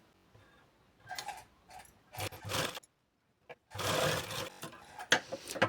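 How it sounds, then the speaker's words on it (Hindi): A sewing machine runs a basting seam on a blouse in short separate bursts, a couple of brief runs and then longer stitching passes with quiet gaps between them, close up with no talking. "तो यहाँ पर मैंने कच्ची सिलाई लगा ली।"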